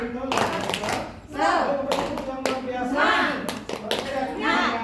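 Group of adults in a teaching session clapping hands in rhythmic bursts, loud and close, alternating with voices chanting between the clapping sections.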